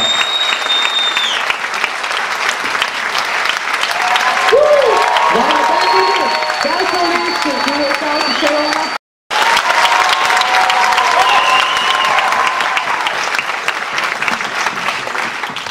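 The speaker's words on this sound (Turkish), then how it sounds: "Sayın Erkan Özarman'ı kuvvetli alkışlarınızla ve oturumda alkışlarla Sayın Erkan Özarman'ı sahneye" A large audience at a Paris modeling competition event applauds continuously as the founder is welcomed onto the stage, dense loud clapping with some crowd noise and talk mixed in, briefly cut off near the middle.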